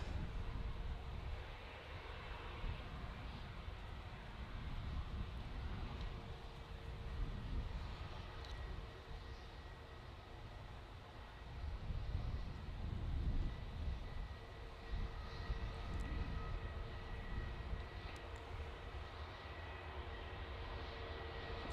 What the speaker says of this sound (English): Looks like this EasyJet's coming down